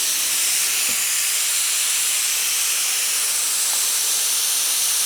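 Steam hisses out of an Afghan pressure pot at about 1.6 atmospheres, a loud, continuous broadband rush that holds steady for the whole stretch.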